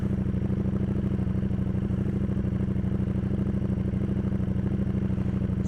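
A motorcycle engine with its exhaust pulls away to set off, a steady close rumble with fast even pulsing and a light mechanical clatter running throughout, with no voices.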